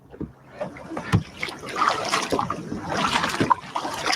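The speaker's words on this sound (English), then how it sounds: "you can't paddle a kayak without making some splashes" Kayak paddle strokes splashing in open water while a shark follows the boat, irregular close splashes and drips with wind, and a voice faintly present.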